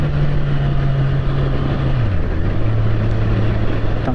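Honda CBR650R motorcycle riding a twisty road in Europe, its engine a steady close drone with a tone that shifts down as the bike works through the curves, heard alone without talk.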